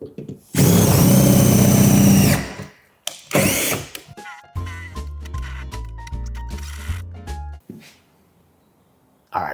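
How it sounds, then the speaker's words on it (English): A loud power drill whirs steadily through a door for a couple of seconds, stops, then runs again in a shorter burst, followed by clattering knocks and rattling. "so I'm gonna have to drill this one."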